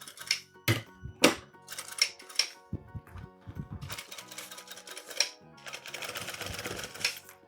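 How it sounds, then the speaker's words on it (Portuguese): A sewing machine stitches fabric while a children's car organizer is being made, running in short bursts of rapid mechanical clatter, then longer continuous runs, close and fairly loud. "Vamos costurando e dar a volta todinha"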